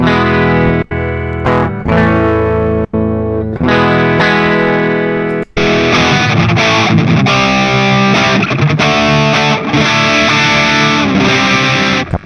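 Electric guitar runs through a Valeton Coral amp modeler. It opens with a cleaner, ringing passage broken by short gaps, then switches to loud, thick distortion that sustains to the end, with no voices.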